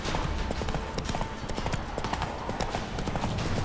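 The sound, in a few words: horse Roach's hooves clip-clopping in video game The Witcher 3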